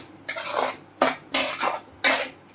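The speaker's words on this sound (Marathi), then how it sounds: "आणि आता ह्या स्टेजला असं छान हलवायचं आहे." Carrot halwa stirred in a pan with a spoon, four close scraping strokes in an uneven rhythm, each a short gritty rasp with pauses between.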